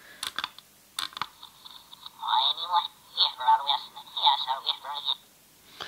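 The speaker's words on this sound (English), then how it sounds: "And that's in reverse. Backwards." A Yakbot toy robot plays a recorded voice backwards through its reverse effect, giving garbled, tinny, swelling syllables from a small speaker, preceded by a few sharp clicks.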